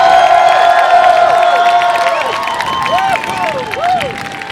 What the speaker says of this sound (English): everybody working at this festival deserves your fucking applause right now